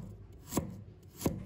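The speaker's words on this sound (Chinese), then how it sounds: "把它切成薄片" A knife slices peeled fresh ginger into thin slices on a cutting board: two distinct, close knocks of the blade hitting the board, spaced well apart, with no voices.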